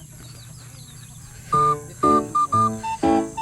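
A few short, clear clucks from a chicken, close by, after a quiet start with faint background noise.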